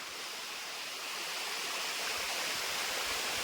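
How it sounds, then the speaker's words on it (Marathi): Rushing water pours steadily down a monsoon waterfall in Konkan, a constant broad hiss that swells slightly louder toward the end, with no voices. "वरसून पाणी येता बघा"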